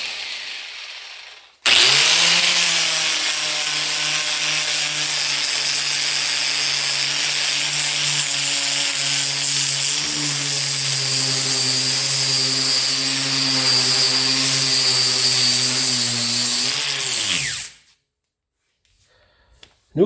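An angle grinder fitted with a stripping pad on a new adapter spins up loud and steady with a high whine, runs for about sixteen seconds with slight pitch dips, then winds down and stops.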